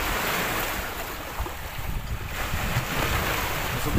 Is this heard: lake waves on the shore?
yes